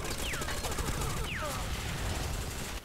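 Gunfire in Ghost Recon Online on the Chertanovo map, rapid bursts of automatic fire crackling under a player's voice with dense overlapping shots and a couple of sweeping whooshes.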